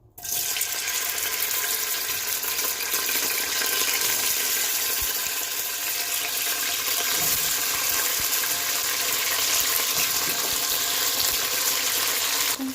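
Okra sizzling in hot oil in a pan, a dense, steady frying hiss that fills the whole stretch without a break and with no talking.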